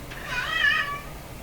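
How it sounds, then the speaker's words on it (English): A house cat meows once in a drawn-out, rising and falling cry, close and fairly clear against a quiet room. "my poor cat's crying and crying and crying for me"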